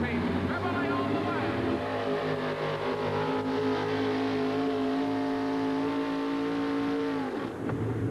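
A Chevrolet four-wheel-drive pulling truck from the Three Bears team revs hard and steady through a run, engine holding a high drone before popping and dropping off near the end, with an announcer talking over it.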